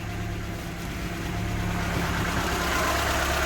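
A car engine idles steadily just after starting, during work on the cooling system: a close, constant low rumble with a mild vibration, continuous and unbroken, no speech.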